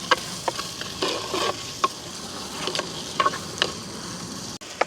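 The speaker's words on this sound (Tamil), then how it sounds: "வெங்காயம் பச்சை மிளகாய் உள்ளியும் பட்டி வச்சுருக்கிறோம். அதையும் போட்டுக்கொள்வோம். இப்படியே கலந்து விடுவோம்." Onion, green chilli and garlic being stirred in a frying pan: a steady sizzle with repeated sharp scraping clicks from the spoon at an uneven rhythm, close and fairly quiet.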